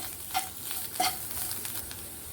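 Watermelon rind halwa cooking in a pan: a soft, steady sizzle with two quick scraping strokes of a spoon early on, close and fairly quiet.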